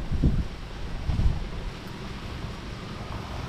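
Gusty wind buffets the microphone with low rumbling bursts, a steady blustery roar outdoors in a calamansi orchard with no voices.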